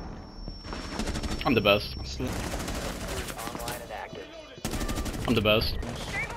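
Rapid SMG gunfire in a video game, dense bursts of shots rattling close and loud, mixed with other game effects while a player talks over the action.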